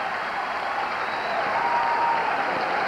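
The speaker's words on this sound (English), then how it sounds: "The Galesburg fans stand up, begin cheering." Galesburg basketball fans at a 1976 high school supersectional game stand and cheer, a dense, steady roar of crowd noise and applause filling the arena throughout.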